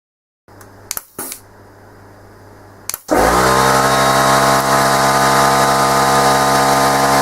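An air compressor kicks on after a few brief clicks and bumps, then runs loudly and steadily with a strong motor hum and hiss, close by and continuous, with no voices, at a bench where solder paste is applied to a PCB.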